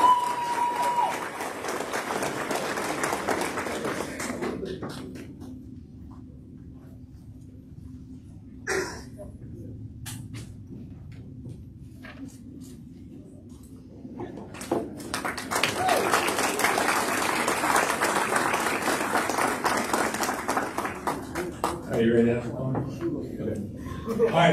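Audience applause at a high school awards ceremony, loud sustained clapping that fades to near silence, picks up briefly, then swells again into a full, dense round of applause.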